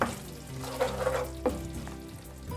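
Fresh coriander leaves being stirred into a paneer masala in a pan, giving a moderate frying sizzle with soft scraping stir strokes throughout.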